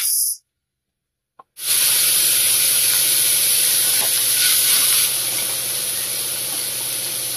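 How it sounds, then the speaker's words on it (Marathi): Chicken liver drops into hot oil in a pan and erupts into a loud, steady sizzle that holds on through the rest of the moment. "इथे आता तेल गरम झालंय, त्यामध्ये आपण एक कलेजी घालून घ्यायची।"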